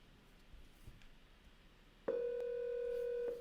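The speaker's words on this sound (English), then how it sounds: "let me phone 100 from my cell phone" A cell phone call reaches a Raspberry Pi running an Asterisk PBX, and after a quiet stretch of faint background hiss a steady electronic ringback or dial tone starts abruptly and holds loud and unbroken for over a second.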